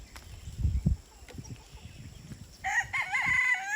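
A few low thumps and rustles, then a rooster crows loudly nearby near the end, its call rising and wavering.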